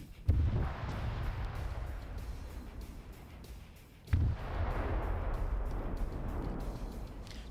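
An Igla missile strikes a helicopter in a PvP military shooter game set in a China versus Takistan match, heard as two heavy booms about four seconds apart, each with a long rumbling tail.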